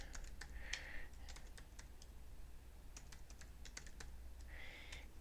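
Computer keyboard keys tapped in quick irregular bursts while a password is entered, close and fairly quiet clicks with a short pause midway.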